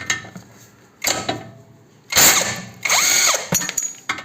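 Power tool removing bolts from the suspension of a SEAT Ibiza 6L: loud bursts of whirring and ratcheting, with a rising and falling tone in the last burst and short pauses between runs.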